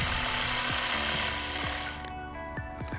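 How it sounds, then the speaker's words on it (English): A jigsaw cuts pallet wood close by, a steady buzzing saw drone that eases off near the end, with a few knocks and clatters. "And then we'll take the jigsaw and cut the space out for a handle."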